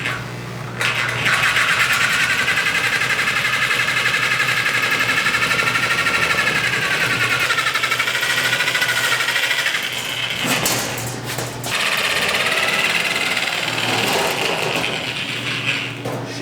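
A metal shear cutting a metal piece in a garage fabrication shop during a Mustang engine swap build, giving a loud, steady mechanical whir that runs almost continuously with brief dips and pauses near the end.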